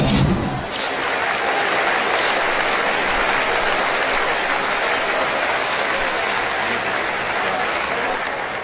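Crowd clapping in an arena during an NBA basketball game between the Warriors and the Thunder, a continuous broad wash of applause and noise that holds steady throughout.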